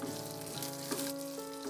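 Garlic, ginger and red chili fry in a pan for a chutney, giving a close, steady crackling sizzle with a faint background hum and occasional stirring.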